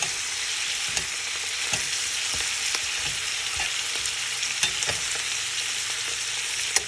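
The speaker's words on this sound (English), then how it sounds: "we were only browning them. So we turn them over, you'll see." Turkey wings sizzle and fry steadily while browning in a frying pan, a dense continuous crackle with scattered sharper pops and a few light clicks as pieces are turned over.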